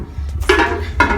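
A big metal frying pan handled in a kitchen, with a couple of short clanks and scrapes of metal against metal, close and moderately loud over a low background hum.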